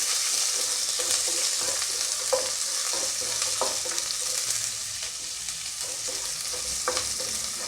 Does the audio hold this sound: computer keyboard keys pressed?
no